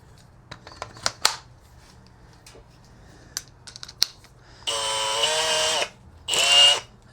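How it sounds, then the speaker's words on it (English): A battery drill fitted with a mixer paddle stirring epoxy for a sunken shower pan, two bursts of whirring motor, about one second and half a second long, after scattered clicks and handling knocks. "find this type of mixer works out really good"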